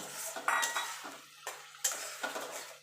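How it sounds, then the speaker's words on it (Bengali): Fried potatoes stirred with spice masala in a pan, a spatula knocking and scraping against the metal in about six distinct strokes over a soft sizzle. "আলুর সঙ্গে মশলাটা কষিয়ে নেবো যাতে আলুর ভিতরে সব মশলাটা ঢুকে যেতে পারে"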